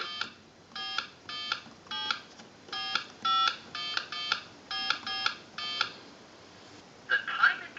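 Touch-tone DTMF dialing on a TS22 lineman's buttset placing a call: about eleven short, evenly spaced beeps in a quick rhythm, fairly close and clear, followed by a brief burst of a different sound at the end.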